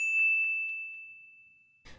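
A single bright notification bell ding rings out loud and clear, then decays slowly over more than a second, followed by a short burst of noise at the very end.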